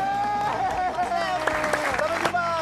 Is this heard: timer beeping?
no